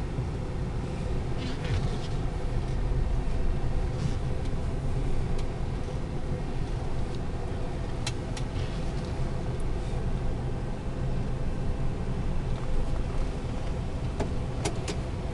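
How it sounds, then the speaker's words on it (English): A 1998 Ford F150 pickup with a 5.4 V8 on a test drive gives a steady, low in-cabin engine and road drone throughout, with a few faint ticks and rattles and no talk. "Let's take you guys off for a quick test drive."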